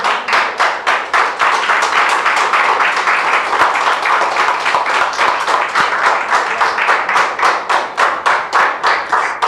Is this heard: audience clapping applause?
yes